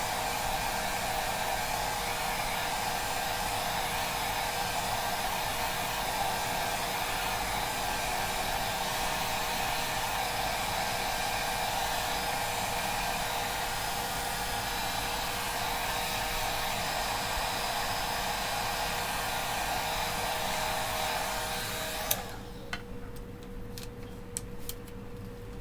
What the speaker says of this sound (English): Just take a little hair dryer and dry it a little bit.